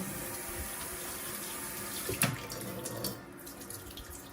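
Tap water runs steadily into a sink as hands are wetted while making sourdough bread dough at home, a continuous close hiss with a brief splashy burst midway before the flow softens.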